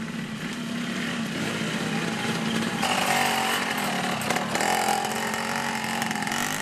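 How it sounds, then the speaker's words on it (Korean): A custom workshop-built motorcycle with long wooden beams fixed front and back runs in an Indonesian jungle, its light engine giving a steady, buzzy, chainsaw-like drone at close range that rises slightly midway. "소리의 정체는 오토바이입니다."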